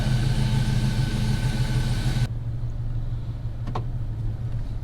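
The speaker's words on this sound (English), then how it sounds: "let's hop in this thing and go for a drive" A slammed Chevrolet Sierra pickup with a 5.3 engine swapped in for the original 4.3 runs at a steady idle, a loud low hum that drops a little partway through and carries on alone.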